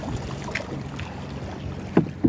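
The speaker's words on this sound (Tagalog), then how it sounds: "Ito yung bangka namin" A boat ride at sea near Anawangin Cove in Pundaquit, San Antonio, Zambales: low rumbling engine and water noise with wind buffeting the microphone and a couple of thumps from waves hitting the hull.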